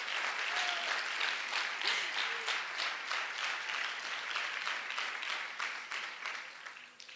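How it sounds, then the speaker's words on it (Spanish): Sustained, loud applause from a church congregation honoring the King during a worship service, dense clapping filling the whole stretch with a few voices and shouts mixed in before it tapers slightly at the end. "Dale un fuerte aplauso al Rey"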